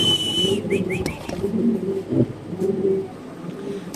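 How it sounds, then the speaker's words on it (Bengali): A pair of velvet silk pigeons at a pigeon farm gives soft, low cooing in several rounds over the whole stretch. Faint chirps and a whistle-like tone come and go near the start. "এখানে আছে এক পেয়ার ভেলভেট সিল্ক কবুতর"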